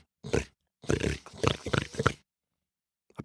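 A person imitating a pig, making a series of short, close grunting noises in rhythmic bursts, then a pause and a brief final sound.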